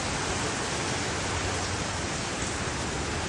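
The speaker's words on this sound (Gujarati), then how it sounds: "વરસાદ આવે છે સરસ મજાનો" Heavy rain pours steadily outside a Swaminarayan temple in America, a dense, unbroken hiss that stays loud and even throughout with no voices.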